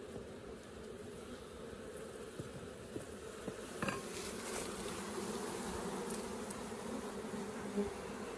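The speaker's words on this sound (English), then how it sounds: "All right, so I got the bees out of the tree." A honeybee swarm buzzing steadily during a transfer into a Layens gable roof forestry hive, a dense continuous drone of many bees with faint handling knocks, fairly quiet and without talk.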